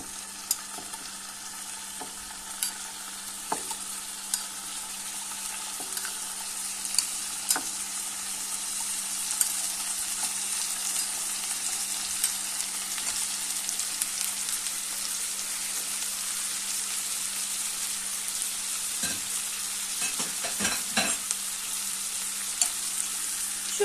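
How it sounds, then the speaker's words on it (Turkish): Steady, close sizzling of tomato slices frying in melted butter in a pan, with occasional soft pops and scrapes as they are turned. "biraz kızartacağım domateslerimi."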